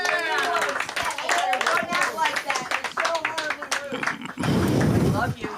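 Audience clapping at a comedy show, with a run of distinct hand claps under someone talking, then a short louder burst of applause near the end.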